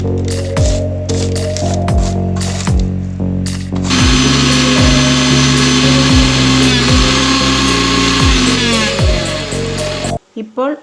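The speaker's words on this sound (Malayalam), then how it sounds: "പൊടിച്ചെടുത്തവ എത്രയാണോ ഉള്ളത് അത്ര തന്നെ കൽക്കണ്ടം എടുത്ത് പൊടിച്ച് ഈ കൂട്ടും അതിനൊപ്പം മിക്സ് ചെയ്തെടുക്കുക" An electric grinder powders rock sugar with an herbal cough remedy mix, starting in short loud pulses and then running in one long continuous whir before stopping abruptly, with a voice speaking over it.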